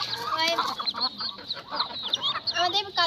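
A hen that has not yet laid eggs clucks close by in a short burst of repeated calls, with no talk over it.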